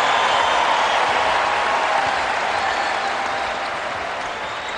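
Basketball fans applaud in an arena during a 2009 NCAA college game between Arkansas and Vanderbilt, a broad sustained roar of clapping that fades gently toward the end.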